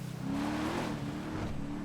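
An all-wheel drive car's engine in GTA Online drones steadily, a loud, close motor tone that climbs in pitch as it revs, then settles and holds under continuous road and tire noise.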